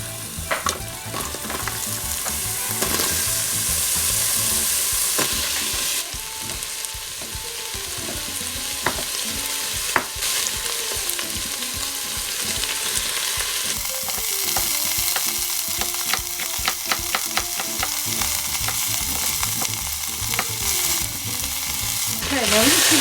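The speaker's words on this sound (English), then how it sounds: "That'll start sizzling pretty soon, and then we can add our remaining ingredients." Steady, continuous sizzling of vegetables frying for minestrone soup in a hot Tefal Cook4Me pot, with occasional scraping and stirring sounds, loud and close throughout with no talking.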